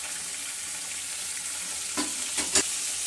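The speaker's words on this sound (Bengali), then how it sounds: "তো এভাবে করে ভালো করে সবগুলোকে ভেজে নিতে হবে।" Chicken with garlic and ginger frying in a pan, a constant sizzling hiss with a few brief stirring knocks near the end, no speech.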